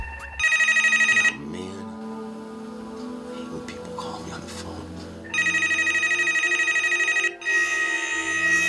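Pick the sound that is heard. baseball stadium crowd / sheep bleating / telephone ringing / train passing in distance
telephone ringing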